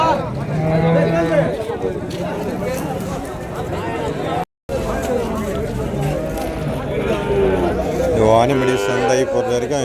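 Cattle lowing and mooing repeatedly at a busy cattle market in Vaniyambadi, several bulls calling close by amid background crowd chatter.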